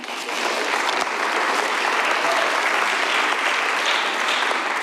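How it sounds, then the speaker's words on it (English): Audience at a presidential inauguration investiture ceremony applauding a speaker, a sustained, even wash of clapping from a large crowd at moderate distance. "I'm glad I got the applause"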